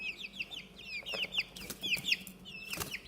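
Young chickens being raised for eggs cluck and chirp in short, repeated bursts, close by and moderately quiet, with no talking over them.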